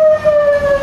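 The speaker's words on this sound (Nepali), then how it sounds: "एम्बुलेन्स यता पनि एम्बुलेन्स" A single steady electronic ambulance siren tone holds loud and close throughout a brief moment on a road, with faint traffic rumble underneath.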